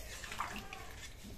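Warm water pours briefly into a simmering tilapia curry with broad beans and kohlrabi in a pan, a soft, close splashing wash lasting about a second, with a faint voice in the background.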